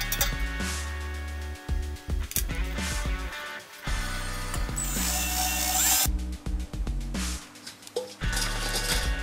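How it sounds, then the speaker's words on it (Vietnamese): A power drill whirs in several bursts drilling holes in a tin can to mount a motor, starting and stopping with short pauses between, close and fairly loud, with a higher-pitched stretch midway. "Mình sẽ khoan tiếp hai lỗ ở đây, chỗ này và chỗ này"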